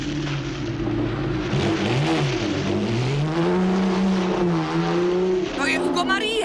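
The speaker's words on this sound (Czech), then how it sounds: "To je moje Maserati, poznám ho podle zvuku." A Maserati car's engine revs loudly and rises in pitch as the car pulls away and drives off, with a steady throaty drone and climbing tone, while voices talk over it.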